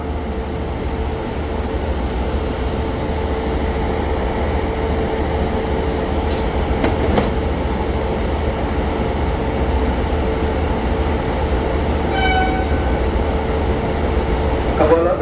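Thai special express train No. 43 from Bangkok to Surat Thani rolling past with a loud, steady rumble and a few high squeals over it, heard close with no talking.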